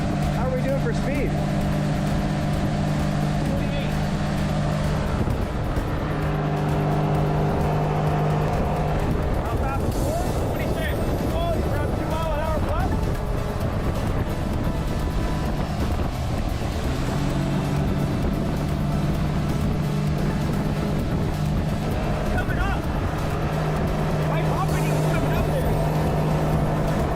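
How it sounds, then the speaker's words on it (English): An outboard-powered motorboat with its engine trimmed up runs at speed, a steady droning engine hum with shifting pitch and water rush, while someone talks over it throughout. "Being able to trim the engine up allowed Andrew's boat to gain 3 miles per hour on top with a better hole shot to boot"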